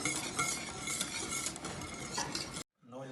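A spoon stirs milk thickened with cornstarch in a pot, making a continuous, close scraping and swishing with faint clinks against the pan, stopping abruptly near the end before a short quiet tail.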